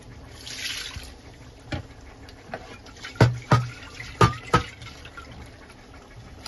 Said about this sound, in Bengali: একটু সামান্য ধুয়ে পানি দিয়ে দেবো